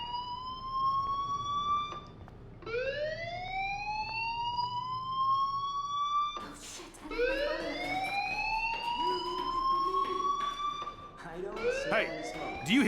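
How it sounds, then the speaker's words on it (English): Fire alarm wailing in the video game Life is Strange Remastered, a loud rising siren tone that repeats in long sweeps, with a person talking over it. "do you hear that fire alarm?"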